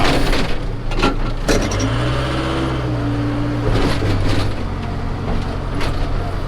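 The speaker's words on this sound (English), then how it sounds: "Four-wheel drive backhoe is bad enough" A Case 580SK four-wheel drive backhoe moving snow, its loud diesel engine droning up close with a rising and falling pitch as it works, plus clanks and knocks from the bucket and machinery, no talking.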